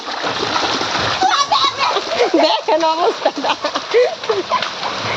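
Water splashes loudly and continuously close by at a tap as children bathe, shouting and talking over the noise.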